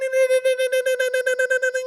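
Morse code message: a steady electronic tone broken into a rapid series of short beeps, loud and clean with no background noise or talking.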